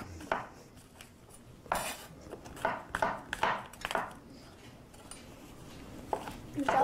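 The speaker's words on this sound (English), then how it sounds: "We'll cut these in chunks because once we cook them, they look a lot smaller than they do now" A knife clicks against a cutting board and a dish at irregular intervals while escargot is cut into chunks, soft and close with room noise behind.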